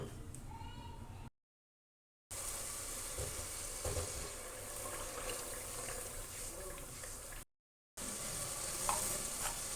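Chana kofta frying in hot oil as the pan is swirled by hand, a steady sizzle with soft stirring and sloshing, broken by two short silent gaps.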